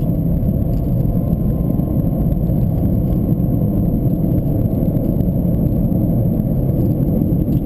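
Jeep Liberty with a worn front wheel bearing while driving, giving a steady loud low rumble and road drone that holds throughout with no break, no voices over it.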